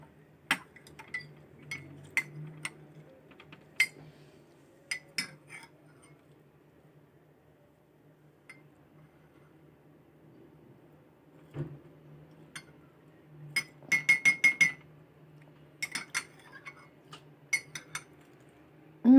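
Fresh herbs, lemon balm or verbena, dropped into a drinking glass after rinsing in water, giving scattered light clinks and taps of glass with soft handling sounds, several bright strikes clustered together, close and quiet.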